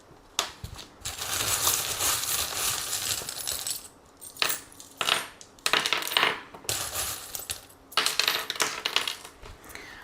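Small metal tarot charms shaken and tumbling together in repeated bursts, bright jingling clatter of several drops separated by short pauses, close and fairly quiet with no voices.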